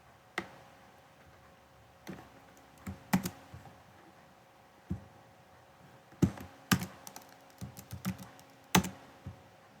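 A password typed on a computer keyboard: scattered, close individual key clicks with irregular gaps, a few quick clusters of taps, and a faint steady hum underneath.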